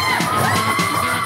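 A crowd of riders screams and whoops on an amusement park ride, loud sustained overlapping shrieks and yells close by, continuous throughout with no other talking.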